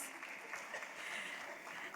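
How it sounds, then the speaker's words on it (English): Quiet, steady applause from an audience at a tech talk on building for scale, a faint, continuous wash of hand claps lasting throughout without a clear break. "Give yourself a round of applause."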